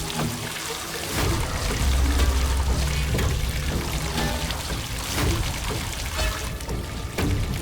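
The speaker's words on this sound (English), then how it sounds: "Water starts pouring into the car quickly like an invisible monster." Rushing water pours into a car continuously, a loud turbulent gush with low rumbling underneath, no voices.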